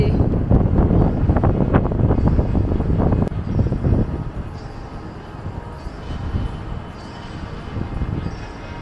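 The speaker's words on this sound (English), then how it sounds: "it's so windy" Strong wind blowing outdoors in downtown Cleveland, Ohio, a loud, steady rumbling buffet across the microphone that is heaviest early on and then eases into a softer, gusting roar.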